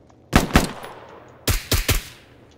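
Sharp, loud gunshots in the game Arma 3: two quick bangs, a short pause, then a rapid burst of three more, with no talking.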